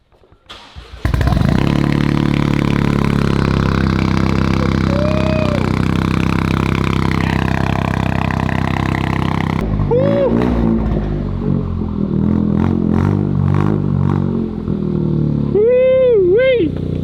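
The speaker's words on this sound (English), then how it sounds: "we have to get the first startup with the new exhaust." A Toyota GR Corolla engine with a new downpipe exhaust cranks briefly and then fires up, settling into a loud, steady rumbling idle with some revving; voices speak faintly over it later.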